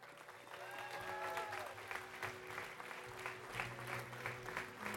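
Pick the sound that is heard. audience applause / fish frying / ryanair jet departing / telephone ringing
audience applause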